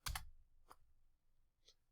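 Keys clack on a computer keyboard while entering values into AutoCAD, a few separate quiet taps spread over two seconds, close and faint with no talk.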